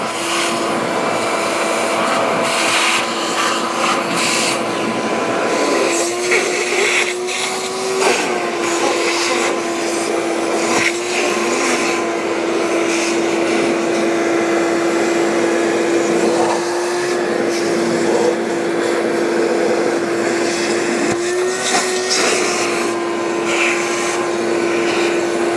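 A vacuum sucks metal chips off a machine in a workshop, giving a loud, steady whining drone that runs unbroken throughout with no talking.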